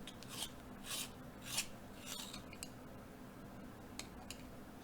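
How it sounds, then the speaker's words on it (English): Peach-colored pencils are sharpened for a drawing, giving several faint, short scraping bursts close by over a quiet room background. "we're gonna sharpen up my peachy colors for the nose"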